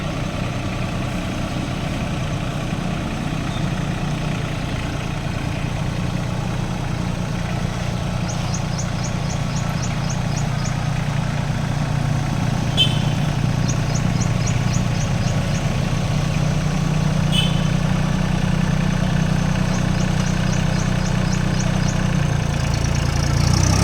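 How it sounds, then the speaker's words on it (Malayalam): A tractor engine with a faulty-sounding note idles steadily in a low, droning rumble while being unloaded from a lorry. Faint bursts of rapid ticking recur over it, and there is no speech. "ഈ ട്രാക്ടർ എന്തോ കുഴപ്പമാണ് കേട്ടോ സൗണ്ട്"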